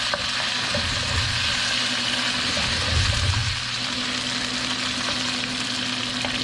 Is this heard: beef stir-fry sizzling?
yes